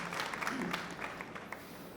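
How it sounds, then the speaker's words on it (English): An audience at an MWC25 conference gives panelists a short burst of applause, a soft, fairly distant patter of clapping that fades within two seconds. "A big applause to our panelists."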